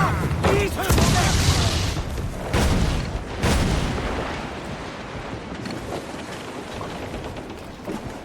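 Ship cannons fire in Assassin's Creed 4 Black Flag, heavy booms at the start and again around two and three seconds, then a rumbling tail under wind and sea noise, with crew shouting nearby.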